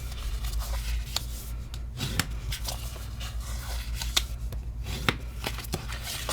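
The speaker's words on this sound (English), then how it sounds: "I'm also, when I'm burnishing, I get to burnish that adhesive in." Rubbing and burnishing adhesive onto cardstock for Stampin' Up! swap cards, with close, dry scraping strokes and brief papery taps repeating unevenly over a steady low hum.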